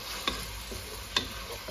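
Frozen beans and onion sautéing in a pan: a low, steady sizzle with a couple of light spatula clicks, quiet and close with no talking.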